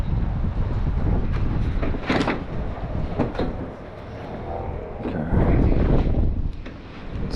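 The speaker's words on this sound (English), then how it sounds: "So windy out today, man." Gusty wind buffets the microphone with low rumbling bursts and rough noise, rising and falling irregularly throughout.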